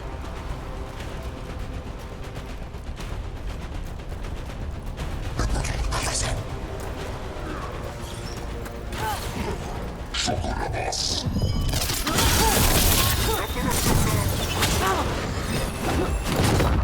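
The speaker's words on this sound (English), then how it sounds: "Cannon fire! Get clear!" Cannon fire in Dragon Age: The Veilguard, heavy booms and thuds under a dense game mix of music and effects, growing louder and busier toward the end with crashing impacts.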